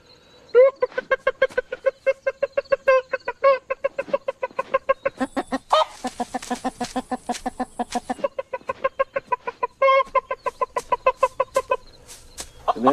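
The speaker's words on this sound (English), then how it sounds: "he lures her by making a sound when he finds a piece of grain or something" Rooster giving a rapid, repeated clucking food call to draw a hen to a piece of grain, a long series of close, rhythmic clucks with a few higher squawks mixed in.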